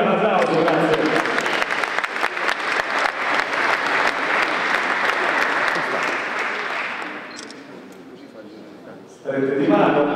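Applause from an audience at an award ceremony for a team, many hands clapping loudly and then fading gradually before a voice comes in over a microphone at the end.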